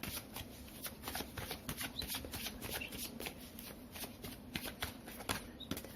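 Tarot cards are drawn and handled, giving a rapid, quiet series of crisp flicks, slaps and riffles, close by and without talk.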